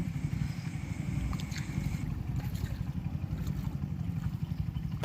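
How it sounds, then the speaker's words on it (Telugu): Motorbikes and auto-rickshaws push through a flooded road, a steady low engine drone mixed with churning, sloshing water that runs continuously and fairly close throughout. "బైక్లు ఆటోలు ఇటు నుంచి అటువైపు వెళ్ళడానికి చాలా ఇబ్బంది పడుతున్నారు."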